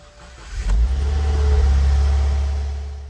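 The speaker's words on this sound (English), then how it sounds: "So car started, everything works" A 2015-or-newer Subaru WRX engine cranks and catches with a short burst near the start, then settles into a steady, loud low rumble at idle, heard alone without talk.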